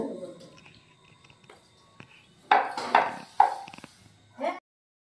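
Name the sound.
putting a kadai (wok) on the stove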